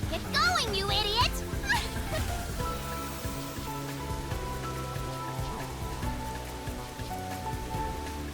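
Steady rain hisses in the video game Master Detective Archives: Rain Code, a dense continuous wash under game music and sound effects, with a brief high chirping call near the start.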